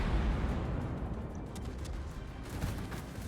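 Warship HE shell fire in World of Warships comes as a steady low rumble of distant naval gunfire, with faint thuds and brief crackling bursts.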